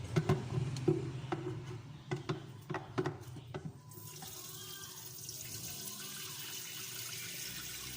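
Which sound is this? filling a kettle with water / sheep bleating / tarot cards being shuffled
filling a kettle with water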